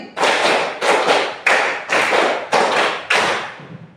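A group of children clapping a counted rhythm in a classroom, six loud bursts of quick clustered claps spaced at a steady pace, each burst fading before the next.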